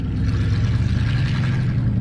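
A 1955 Ford car driving in second gear gives a steady, loud, close engine rumble with a low whirring drone throughout and no speech.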